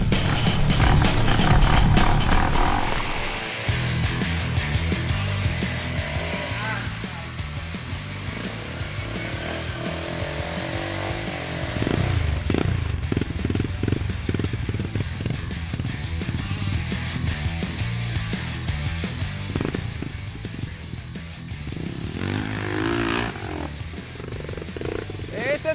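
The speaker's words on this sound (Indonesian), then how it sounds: "Nanjak di trek seperti ini perlu tarikan gas lebih ekstra." Off-road vehicle engine revving hard while climbing a steep jungle trail in Sumatra, a loud, sustained roar with rising and falling throttle surges and rough mechanical chatter throughout.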